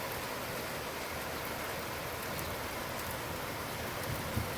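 Rain falls on a farm in a dense, even hiss of droplets, steady and fairly loud throughout with no voices.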